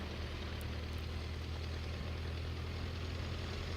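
A boat engine idles steadily at dawn on Round Lake, a continuous low rumble with an even hum and no talk over it.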